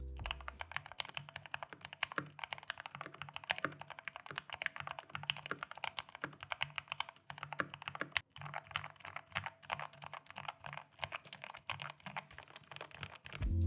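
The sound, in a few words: typing on modded Logitech K630 keyboard with pudding keycaps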